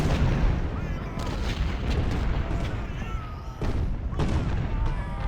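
Artillery fire from Ultimate General: Civil War at a Gettysburg battle booms in dense, overlapping volleys, with sharp cannon reports standing out over a constant rumbling din.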